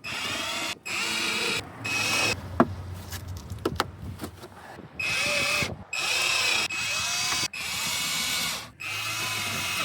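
A power tool drives screws and bolts back into the mudguard of a 2018 Alfa Romeo Giulia or Stelvio during a headlight bulb replacement, loud whirring bursts of several seconds each, separated by short pauses and small clicks.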